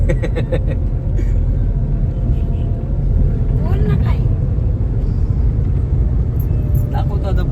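A car on a road trip cruising along the highway, a steady loud engine and road rumble throughout, with a voice talking over the drive.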